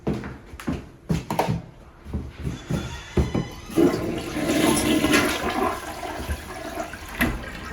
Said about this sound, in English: getting rid of all the water in the tank as well as inside the bowl